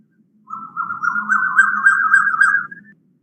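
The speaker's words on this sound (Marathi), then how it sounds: "कुकळ्याचा आवाज आहे." A recorded Asian koel call played back during an online bird-watching session: one drawn-out, rising whistled note lasting about two seconds, clean and fairly loud against silence, with no talking.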